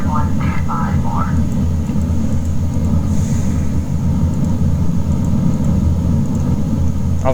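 Engines of a Dash 8 Q400 airliner roar as a loud, continuous rumble through the takeoff run, with a radio voice briefly talking over the drone.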